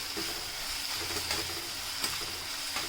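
Onion with green chili and ginger paste sautés in a pan, producing a constant close sizzle with soft scraping strokes of a spatula and a faint high whine in the background.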